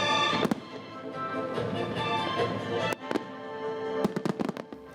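A National Day fireworks display at night in Kaohsiung crackles and booms, with dense bursts and sharp cracks, several louder reports near the end, heard from a moderate distance with crowd ambience.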